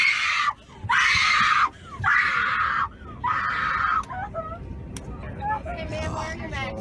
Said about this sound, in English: here they are with this girl screaming